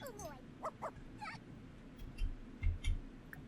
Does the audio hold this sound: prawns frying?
no